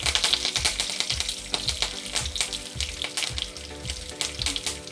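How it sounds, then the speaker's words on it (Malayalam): Curry leaves crackle and sizzle in hot oil, a busy continuous spattering with rapid irregular pops, close and fairly loud. "അതിനകത്തേക്ക് കുറച്ച് കറിവേപ്പില ഇട്ട് കൊടുക്കാം."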